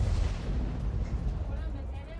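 Missile strike explosions on an Israeli attack near a nuclear facility road in Iran, heard as a dense, continuous low rumble of blasts and booming fire over about two seconds, with a voice faintly under it.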